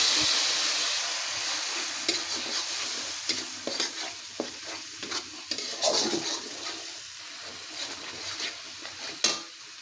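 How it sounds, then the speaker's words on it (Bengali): Masala paste with tomato sauce sizzles and fries in oil in a pan for a fish bhuna, with a steady hiss under repeated scraping stirs of a spoon and occasional louder clacks against the pan. No one speaks. "মশলাটা আমি ভালো করে 5 মিনিট কষিয়ে নেব। যতক্ষণ তেল না উঠবে ততক্ষণ আমি ভালো করে কষিয়ে নেব।"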